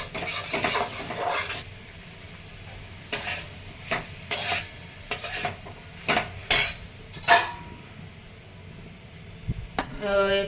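Okra and potato pieces are stirred in a pan with a metal spoon, giving several loud scraping and clanking strokes over a low sizzle, close and without talk.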